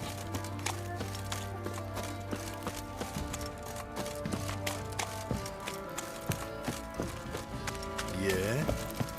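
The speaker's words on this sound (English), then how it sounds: "Time to water the horses." Horse hooves clip-clopping in The Witcher 3 video game, a steady run of rapid hoofbeats in the foreground with game music and voices speaking over them.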